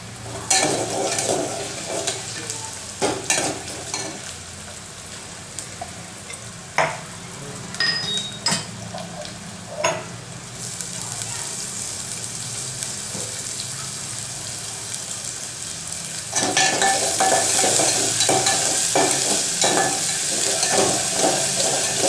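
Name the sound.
onion frying in oil for chicken fry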